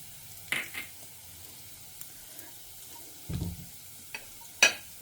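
Dried red chillies and spices such as coriander seed, cumin, chana dal and pepper dry roast in a pan for Karnataka temple-style sambar, a quiet crackle with a few scattered stirring scrapes and rustles.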